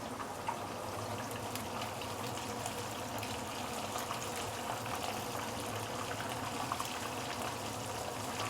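Fish shallow frying in reused oil for a nyonya chili garam dish, a constant low bubbling sizzle with scattered crackles and pops, close and steady throughout.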